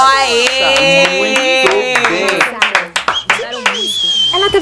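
Scattered clapping from a small group cheering a dance, sharp and close, mixed under lively overlapping voices and exclamations.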